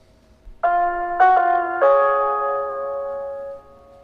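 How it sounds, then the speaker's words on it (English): Three-note ascending electronic chime in the video game Batman: Arkham Asylum, clear and bell-like, each tone ringing out in turn before a long sustained fade. "Suddenly, Batman hears the chime and a familiar voice."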